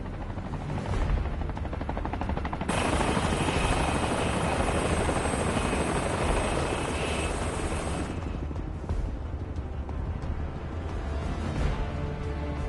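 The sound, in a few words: helicopter in the video game Final Fantasy VII Rebirth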